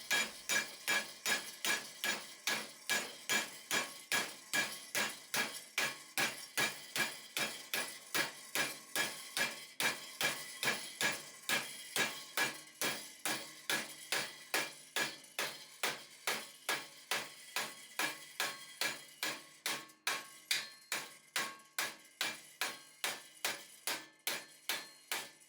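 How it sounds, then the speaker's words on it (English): Steady, rapid hammer blows ring out on sheet metal being bent for a cyclone dust collector, dozens of sharp metallic clanks in an even rhythm, close and alone. "The last bend had to be done entirely with the hammer"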